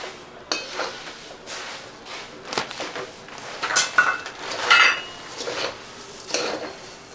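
A spoon stirs puffed rice coated in a spiced tempering around a metal pan for Kolhapuri bhadang chiwda, giving scattered scraping clinks and knocks at an uneven, close-up rhythm.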